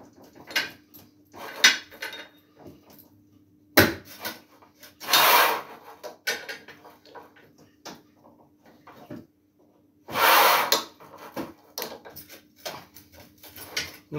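A Bellota manual tile cutting machine, 127 cm long, scoring and snapping a narrow 2 cm strip of ceramic tile: scraping, rasping passes of the cutter mixed with knocks and a couple of loud grinding pushes, close up with no talk.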